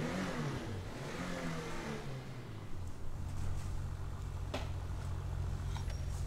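Übermacht Zion Classic car engine in GTA Online, a steady mid-pitched engine drone that drops in pitch as it changes gear, then holds a constant hum with a brief click, and no voices.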